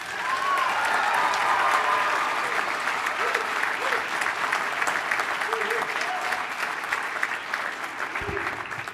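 An audience gives sustained, loud applause to welcome Jeremy Green, the alumni keynote speaker at an evening school event, with a few whoops mixed in. The clapping lasts the full nine seconds and fades only slightly toward the end.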